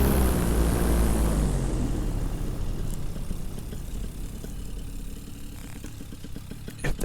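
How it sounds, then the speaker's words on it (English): Propeller airplane on final approach for landing, heard from outdoors: a loud low engine drone that gradually fades as it passes, with light wind and small clicks near the end. "There's an airplane on final, so I'm not going to freak him out."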